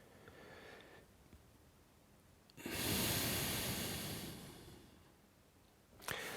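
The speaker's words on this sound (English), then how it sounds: "breathing out." A person breathes out during a tai chi withdraw-and-push exercise: one long, close, breathy exhale lasting about two seconds that swells quickly and then fades gradually, set between quiet stretches with a faint earlier breath and a brief sharp sniff at the end.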